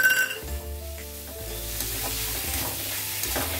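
Fried potatoes, boiled chickpeas and peas are tossed and stirred in a hot pan, a continuous sizzle under repeated scraping and clinking of a spatula, close and fairly loud with no talking.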